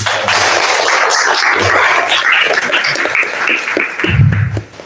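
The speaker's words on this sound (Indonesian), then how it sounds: "Kita beri tepuk tangan dulu." A seated audience at a university faculty event applauds the newly installed dean of the Faculty of Tarbiyah and Teacher Training, a dense, even wash of clapping lasting several seconds that swells slightly near the end before tapering off.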